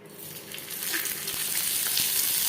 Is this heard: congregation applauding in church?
no